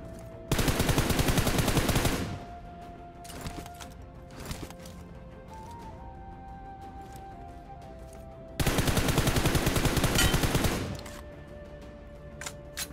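Rapid automatic gunfire in a battle royale shooter comes in two long, loud bursts of dense, evenly spaced shots, with quieter game ambience and a few faint thuds between them.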